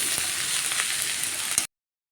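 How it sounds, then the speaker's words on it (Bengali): Helencha (hechi) greens sizzle steadily as they are fried and stirred in a pan, a continuous close crackle with a few scraping stir sounds before it cuts to silence. "বেশ কিছুক্ষণ ধরে আমরা এভাবে নেড়ে চেড়ে শাকটাকে একদম ভাজা ভাজা করে নেব"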